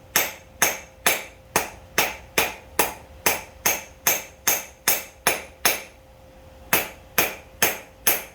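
Hammer forging a steel hook on an anvil while drawing a taper: loud, close, evenly paced metallic blows, about sixteen strikes with a short pause before the last few.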